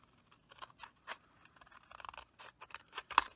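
Scissors snip through cardstock around an embossed card shape cut with a Barn A2 card maker die, giving a string of short, faint crisp cuts in a quiet room, with one sharper snip near the end.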